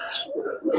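A Giribaz pigeon coos while dancing, a brief throaty rolling coo up close, loud and alone for under a second.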